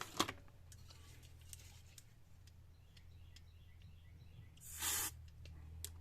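Cleaner sprayed onto a carburetor part from a Powerhorse Predator generator that won't start: a short hiss near the start and a louder sustained spray burst later, over a low steady hum in a workshop.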